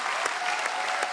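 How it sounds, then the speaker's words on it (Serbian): A studio audience applauds a band with steady, dense clapping and a few sharper claps. The sound is sustained and fairly close, with no clear talk over it. "jedan veliki, veliki aplauz, molim vas"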